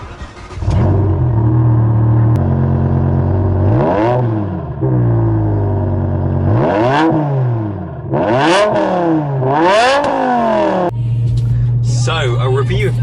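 A BMW M6 accelerates hard, its engine note climbing in repeated rising sweeps through several gear changes and then settling to a steady drone, loud and close throughout.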